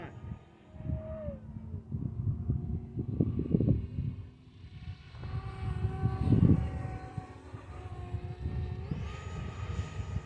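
An FMS Futura 64mm EDF RC jet with an afterburner kit makes a tailwind fly-by, its ducted-fan whine rising and falling in pitch and swelling loudest twice as it passes, with rumbling wind noise underneath.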